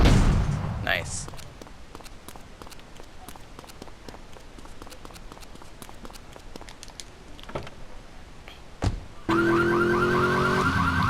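A car alarm in Grand Theft Auto 3 starts wailing near the end, a loud repeating electronic tone that cuts in abruptly after a stretch of pattering, clicking game noise.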